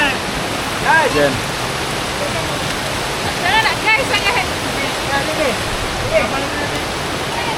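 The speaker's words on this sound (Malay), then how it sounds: "Sekarang dekat latar Berembung memang hujan lebat." Heavy rain falls in the Berembun hills, a constant, loud roaring hiss that stays even throughout, with a person talking briefly over it.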